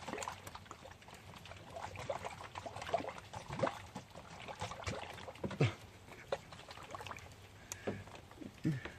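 Flushed toilet water swirling and draining away, a steady gurgling trickle with scattered splashes and drips, fairly close and moderately loud throughout.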